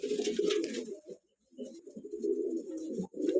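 A pigeon coos in low, throaty bursts, close by, with a brief pause between phrases.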